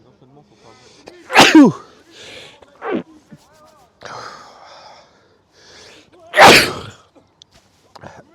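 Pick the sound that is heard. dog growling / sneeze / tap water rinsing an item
sneeze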